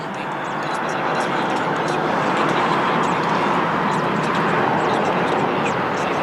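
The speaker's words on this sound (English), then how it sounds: "Airbus A321neo." Airbus A321neo jet airliner at Lisbon Airport, a steady broadband engine roar that swells slightly and holds loud throughout, with talk over it.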